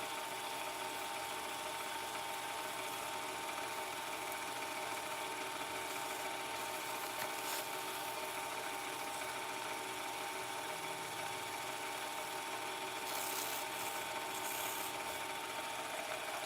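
A resin pen blank is sanded with 2000-grit paper, likely on a lathe, producing a steady close whirring hiss with soft rubbing friction that runs continuously throughout and no talking.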